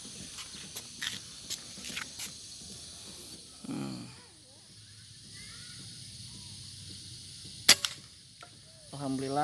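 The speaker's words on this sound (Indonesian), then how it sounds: "Alhamdulillah bagus tembakan pertama." A PCP Predator air rifle with a dural tube fires a single sharp crack at the target range, brief and loud over faint outdoor background and scattered handling noises.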